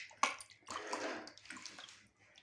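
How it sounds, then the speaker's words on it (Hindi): Raw chicken pieces being rinsed in vinegar water in a home kitchen, giving a close, steady splash and slosh of water with a sharp knock near the start and a quieter trickle toward the end. "ये सिरके वाले पानी से धोएंगे एक दफ़ा हम।"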